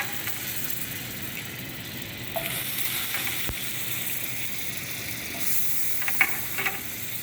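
Butter melting into hot caramel for crepe suzette sauce, a steady soft sizzle that hisses on for several seconds, with a few light clinks and stirring sounds near the end.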